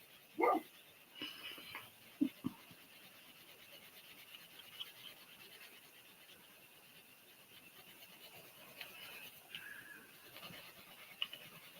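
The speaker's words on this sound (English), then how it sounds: "he is just barking like mad" A dog gives a sharp bark near the start, followed by a few fainter yelps and scattered small sounds over a quiet indoor background.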